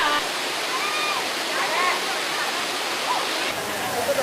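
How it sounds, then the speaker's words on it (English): Loud, steady rushing of a waterfall close at hand while someone climbs up through it, a dense continuous roar with faint splashes and brief voice-like tones in the noise. "My first time, this is me going up the waterfall."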